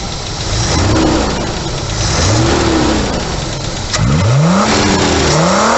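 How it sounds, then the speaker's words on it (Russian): A V6 car engine fitted with a Solex carburetor is revved up close, with a quick blip near the start, another after a short idle, then a longer run of rising revs toward the end, loud and unaccompanied by talk. "Давайте я погазую."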